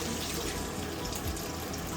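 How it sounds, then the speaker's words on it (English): Drops of water sizzle and hiss steadily on a hot stainless steel saucier being heat-tested, a continuous close, even frying crackle with no talk. "See how that water kind of sizzles?"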